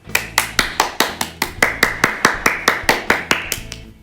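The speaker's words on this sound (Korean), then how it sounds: "오늘 우리에게 이 예배를 허락해 주신 하나님 아버지께 감사의 박수를 크게 올려드립시다." Rhythmic clapping during an online children's church service, with about twenty sharp, evenly spaced claps heard close and loud.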